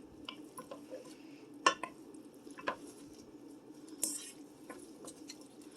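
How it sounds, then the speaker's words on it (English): Egg noodles are stirred into a chicken casserole in a Pioneer Woman Dutch oven: soft, wet squishing and a few light spoon taps against the pot, close but quiet, with no talking. "I'm going to go ahead and dump in the egg noodles. Let's mix this up."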